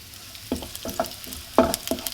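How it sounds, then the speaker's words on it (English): Diced fish sizzles and crackles in hot peanut oil, with intermittent stirring scrapes and pops close by. "And I'll start frying that diced up bits of fish."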